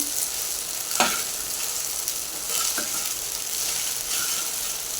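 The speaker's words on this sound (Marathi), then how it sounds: "याला हलवून घेऊया वर खाली हलवताना हे असं वर खाली करायचं" Sabudana khichdi stirred in a hot pan, a continuous sizzle with scraping strokes of the spoon and a few sharp clicks against the pan.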